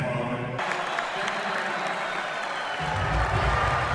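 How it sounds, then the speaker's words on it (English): A comedy show crowd applauds during a standing ovation, the dense clapping and cheering continuous throughout, with a low rumble growing in the latter half. "Look at the standing ovation from the crowd."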